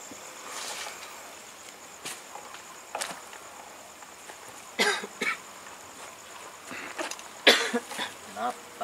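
Several short, harsh coughs close to the listener, spaced irregularly against a faint hissing insect-like background drone.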